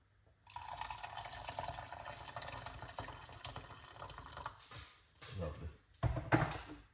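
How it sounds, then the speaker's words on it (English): Hot water poured into a glass holding lemon for a ginger and lemon detox drink, a steady close liquid stream lasting several seconds, then a few louder splashes and clinks near the end, with a voice talking over it. "We're going to pour some hot water."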